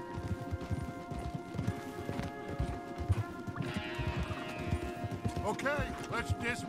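Horse hooves clip-clop steadily in Red Dead Redemption 2, several horses walking on a path, joined by a brief whinny near the end, with continuous talk over the rhythm.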